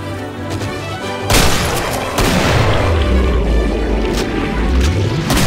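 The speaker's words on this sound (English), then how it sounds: "the weapons have nice throaty roars when fired" Weapons firing in the video game Killing Floor, including a shotgun, deep booming blasts with a heavy low-end roar, a loud shot near the start followed by sustained rumbling fire.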